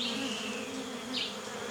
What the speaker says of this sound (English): I can hear buzzing. I can hear like a deep drone, actually.